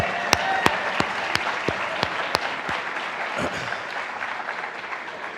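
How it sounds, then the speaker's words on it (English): A premiere audience applauds a feature documentary, steady crowd clapping throughout with a few sharp, evenly spaced claps standing out close by in the first half. "I think that deserves a round of applause"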